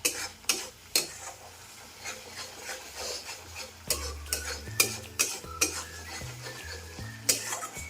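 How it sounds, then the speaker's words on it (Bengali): A utensil stirs a spice mix with chili powder in a cooking pan while egg and soybean curry is made, with repeated metallic scrapes and clinks at an irregular rhythm, fairly close and quiet, with no talking. "ভালো করে নেড়ে নেব।"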